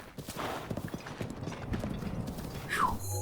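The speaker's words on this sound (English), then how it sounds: "behold, through the hellsphere, traipsed a mighty stallion" Horse hooves clip-clop at a steady trotting rhythm in the video game The Legend of Zelda: Breath of the Wild, mixed with mechanical clicking game sounds and a brief rising whistle near the end.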